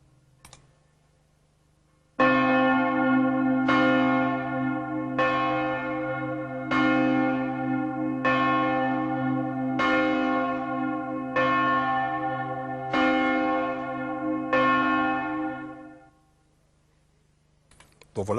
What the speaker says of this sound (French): c'est la volée de cloches